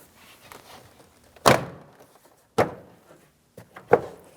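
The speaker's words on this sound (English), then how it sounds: "you can tap the door panel in towards the door." A car door panel on a 2007-2014 GMC Sierra being tapped into place against the door, three distinct firm thumps spaced about a second apart with faint handling noise between, near and fairly loud.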